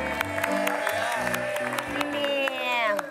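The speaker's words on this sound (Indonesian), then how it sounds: "Boleh kita berikan tepuk tangan." Studio audience on a TV dating show applauds and cheers while upbeat music plays loudly over it, the clapping mixed under the melody and a host's voice faintly present.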